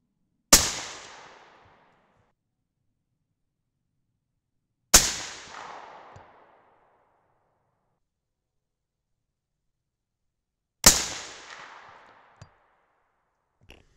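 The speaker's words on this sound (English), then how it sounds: "That was a hang fire." Three sharp 6.5 Creedmoor rifle shots ring out at wide intervals outdoors, each loud crack followed by a decaying echo, with one hang-fire round among them.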